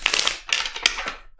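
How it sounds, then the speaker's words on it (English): A deck of tarot-style reading cards shuffled by hand in three quick riffling bursts, crisp papery rustles close and fairly loud with short gaps between. "Two more shuffles, and one more."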